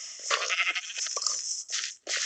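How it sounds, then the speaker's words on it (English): Sheep bleats from the Minecraft video game, several short synthetic bleats in quick succession, loud and close, with a brief gap near the end before another bleat. "Move it, you stupid sheep!"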